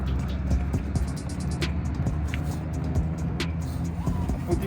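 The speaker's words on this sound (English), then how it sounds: "let me start the forklift and show you how to drive forward on an aisle" A forklift engine runs steadily at close range, giving a continuous low mechanical drone with a few brief clicks and knocks over it and no talking.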